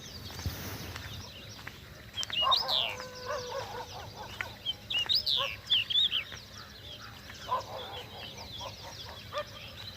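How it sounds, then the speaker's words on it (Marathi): A bird sings in short, bright bursts of chirping calls, repeated several times over a quiet outdoor background. "एक सुंदर असा पक्षी त्याचा इतका आवाज अप्रतिम येत होता"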